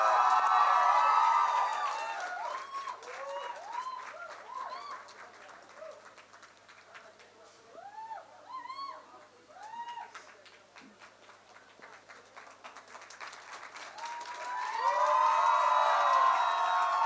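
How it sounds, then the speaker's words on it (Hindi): Crowd at a Hindi-language stage event applauds and cheers, with loud waves of noise at the start and end and quieter stretches between, mixed with scattered voices and bright shouts. "तालियां बजती रहना चाहिए।"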